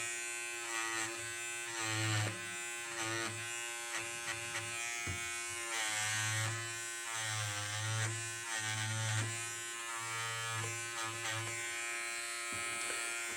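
An electric trimmer cuts through needle-embroidery threads on fabric. It gives a close, sharp electric buzz in short, repeated bursts with brief pauses between cuts.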